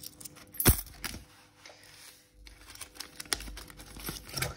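Paper envelopes being handled, with sharp crinkles, rustles and a few crisp snaps in irregular bursts close by, no voices.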